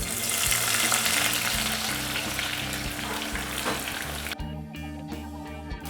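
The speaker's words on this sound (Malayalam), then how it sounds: "എണ്ണ നന്നായിട്ട് ചൂടായി വന്നിട്ടുണ്ട്. അപ്പോൾ നമ്മൾ എടുത്തു വെച്ചിട്ടുള്ള സവാള ഇതിലോട്ട് ഇട്ട് കൊടുക്കുക." Sliced onions dropped into hot oil for chicken zurbian rice, frying with a loud steady sizzle and crackle that thins out near the end as stirring clatters faintly.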